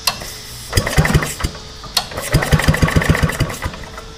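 EZGO golf cart engine with a newly replaced starter generator cranks in short bursts, then catches and sputters into a rapid, uneven chugging run, heard close up without speech.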